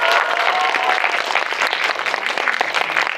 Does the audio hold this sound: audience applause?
yes